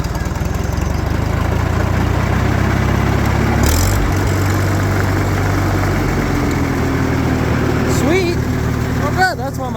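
Farmall H tractor engine running at a steady, loud idle close by, a continuous low rumble throughout, with a voice speaking briefly over it near the end.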